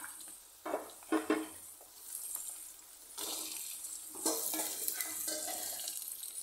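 Onions, carrots and potatoes sautéing in a pan: a soft, continuous sizzle broken by a few louder stirring scrapes, growing fuller in the second half.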